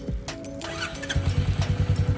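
A Royal Enfield Meteor 350 motorcycle starts with a short electric crank, catches, then settles into a loud, close, even thumping idle with regular pulses, heard alone.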